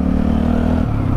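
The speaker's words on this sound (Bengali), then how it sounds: "বাইক স্টার্ট দিছি, এবার সামনের দিকে উঠতে হবে মেবি," A motorbike engine idles steadily with a low rumble, then shifts pitch as the bike begins to pull away on a hill track in the Bandarban hill tracts.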